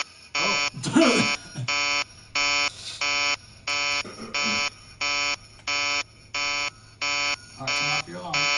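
An alarm in a video game sounds as a long series of loud, evenly spaced electronic buzzer beeps, about a dozen pulses at a steady rhythm, with voices talking briefly over it at the start and end.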